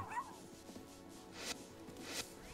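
Dog barking in the video game Tokyo Jungle, a few short yips and whimpers heard faintly within game sounds, with no talk over them.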